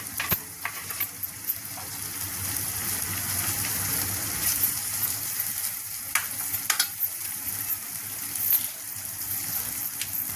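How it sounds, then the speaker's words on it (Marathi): Finely chopped tomatoes fry in a pan for mung dal amti, a steady close sizzle punctuated by scattered utensil clicks and scrapes as they are stirred, no voices. "आता आपण यामध्ये एक कप कापलेला बारीक कापलेला टमाटर टाकणार आहोत"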